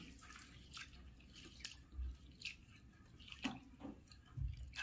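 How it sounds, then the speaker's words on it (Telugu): Quiet splashing and dripping of water as flattened rice (poha) is rinsed in a bowl, with a few soft sloshes and light clinks nearby. "2-3 సార్లు కడిగేసుకోవాలి."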